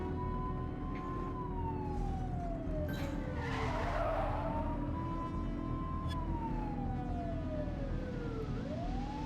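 Police pursuit of a dark van in a video game, with wailing sirens sweeping up and down over steady engine noise and a sharp tire skid squealing in the middle.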